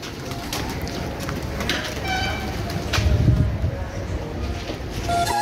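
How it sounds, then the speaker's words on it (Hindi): Many pigeons at Taal Vriksh near Alwar, Rajasthan, cooing softly amid outdoor ambience, with a low murmuring burst midway and people talking nearby. "क्योंकि कबूतर बहुत ज़्यादा हैं।"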